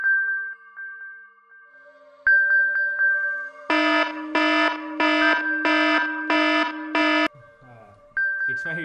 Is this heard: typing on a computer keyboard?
no